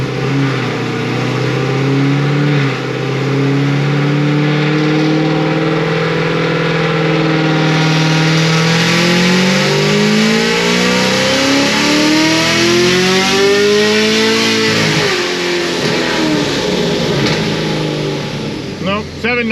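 A Stage 5 Procharged LT1 Camaro with a D1X supercharger on 44% ethanol roars through a full-throttle dyno pull, its loud, sustained engine note climbing steadily in pitch, peaking, then dropping away near the end.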